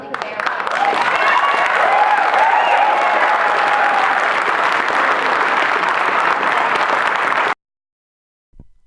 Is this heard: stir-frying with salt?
no